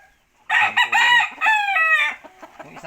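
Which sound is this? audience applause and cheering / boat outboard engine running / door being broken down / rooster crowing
rooster crowing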